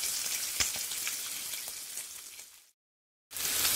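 Cumin seeds and chopped onion frying in oil in a pan, a steady, fairly quiet crackling sizzle that cuts out briefly to silence before resuming.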